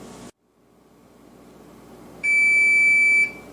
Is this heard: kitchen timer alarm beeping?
yes